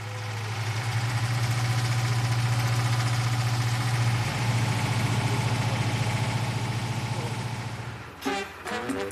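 A vintage tractor engine idles loudly with a deep, constant drone, then cuts off near the end leaving a few brief knocks and rattles.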